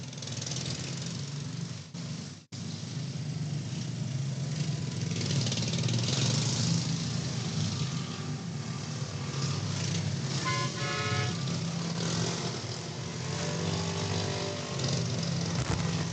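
Cars from 1932 rolling past in a rodeo parade, a steady mid-pitched engine rumble with idling and a brief horn toot early on, heard from the roadside with crowd noise.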